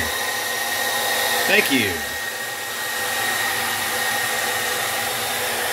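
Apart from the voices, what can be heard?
heating a toy's price sticker with a hot-air dryer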